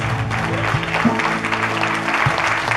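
A church congregation claps in thanks to God after a woman is introduced, a dense, steady wash of applause that continues throughout with murmuring voices beneath.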